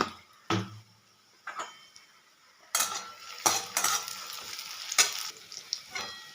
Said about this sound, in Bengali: পেঁয়াজটাকে একটু ভাজতে হবে ভালো করে